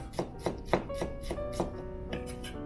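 A knife chops through an onion on a cutting board in a country club kitchen, about ten crisp, evenly spaced thunks at close range with no talking.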